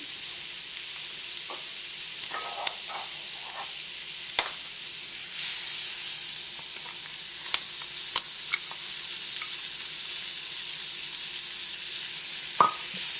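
Onions frying in butter in a hot skillet give a continuous bright sizzle, with scattered light clicks and scrapes of a utensil and one louder clatter near the end.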